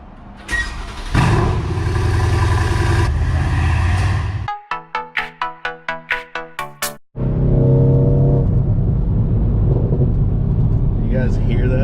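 A tuned Mercedes-AMG C63S V8 roars loudly, then fires a rapid series of sharp blips and pops before roaring again, heard up close.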